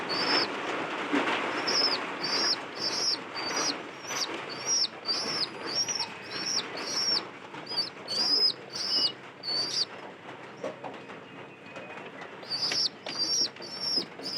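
Pigeons, including squabs, coo in repeated soft phrases over a steady background of rustling and fluttering, with no talking.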